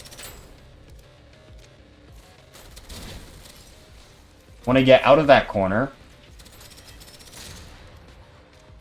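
A grab cannon fires in a looter shooter roguelike video game: a loud, rapid burst of shots lasting about a second midway, after a stretch of quieter game sounds with someone talking over them.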